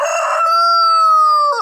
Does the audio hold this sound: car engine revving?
no